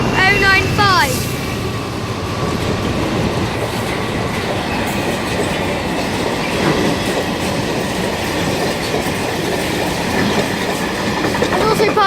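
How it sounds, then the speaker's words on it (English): South Western Railway class 444 electric units 444003 and 444001, bound for Weymouth, run through St Denys station with a loud steady rumble and clatter of wheels on rail, a brief high squeal near the start, continuous for the whole stretch. "And also passing through is the South Western Railway service to Weymouth 444003 and 444001."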